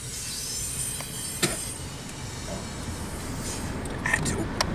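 A freight train rolls past at Cajon Pass, a steady rumbling wash of wheels and cars with faint squeals and a few sharp clanks, heard at moderate distance without speech.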